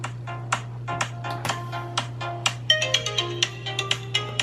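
A Samsung Galaxy Note 7 speaker plays a bright, plinking ringtone melody of quick plucked tones over a steady low hum, close and moderately loud with no talking.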